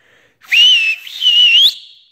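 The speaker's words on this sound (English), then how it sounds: "how to whistle loudly without your hands" A loud, shrill whistle made without fingers, in two sustained blasts with a brief dip between them, close and clear against silence.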